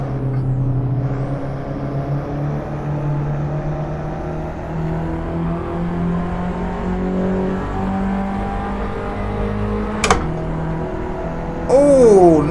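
Race car engine in the Assetto Corsa video game on a novice-series final lap, a steady droning roar with shifting pitch as it runs behind the leader, a sharp click near the end and a rising whine at the close.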